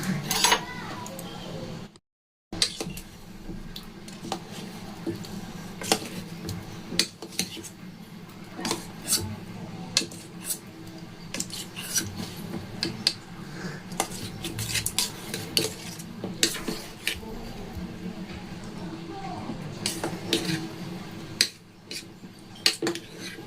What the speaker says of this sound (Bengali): এবার এগুলো সব মিশিয়ে নেব।